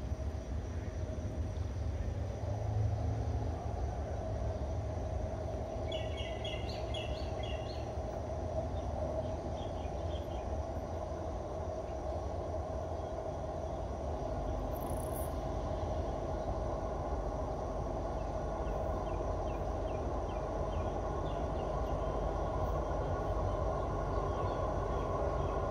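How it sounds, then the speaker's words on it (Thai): Alstom locomotive 4138 hauling express train 133 into Ban Phai station in Thailand, a steady low rumble of engine and rolling wagons that holds throughout, with faint birdsong above it. "มาแล้วครับขบวน133นะครับกำลังจะเข้าจอดสถานีบ้านไผ่"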